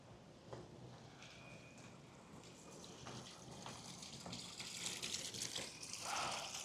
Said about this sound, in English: So this little water feature is something to do with Los Angeles's mother ditch.